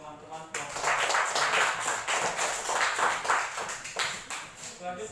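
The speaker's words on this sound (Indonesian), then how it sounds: "beri aplaus untuk teman-teman kelompok" A classroom group applauds their classmates, with steady clapping sustained for several seconds at moderate loudness and voices chattering faintly underneath.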